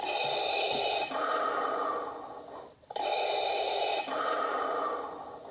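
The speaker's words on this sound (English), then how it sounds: "It actually has the inner workings, the neck piece, and it has sound effects, breathing." Darth Vader costume with a built-in neck-piece breathing effect: two long mechanical inhale-exhale cycles, steady and loud, with a brief gap between them and no speech.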